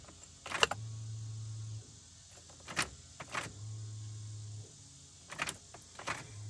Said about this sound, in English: You can usually hear your pump kick on then off.